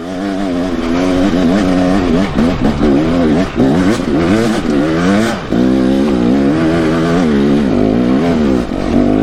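A motorcycle climbs a hill with the clutch feathered and the throttle held steadily open; the engine roars loud and close throughout, its pitch wavering and surging as the revs rise and dip.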